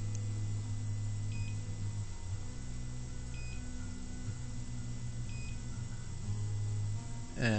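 Three evenly spaced, thin electronic beeps from an Arduino-based combination lock sound over a constant low mechanical hum.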